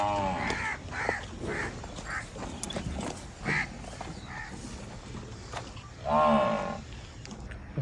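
A pure Nili buffalo at a dairy farm gives several deep, drawn-out moos, the loudest late on, with crows cawing nearby between calls.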